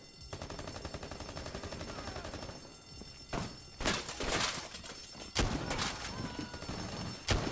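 Loud shotgun blasts in a video game, several sharp reports with irregular gaps, the later ones in quick clusters, over a steady busy game background.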